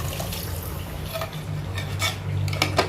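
Mutton curry with water added is stirred in a pot; a spoon clinks and scrapes against the metal over a steady low rumble of the stove, several knocks near the end, no voices.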